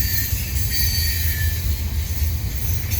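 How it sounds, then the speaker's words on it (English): CN freight train rolling through the Turcot Tunnel with a BC Rail engine, a loud close continuous rumble of wagons with high metallic wheel squeal running over it throughout. "I think this train is just going to go straight through to Dorval, actually."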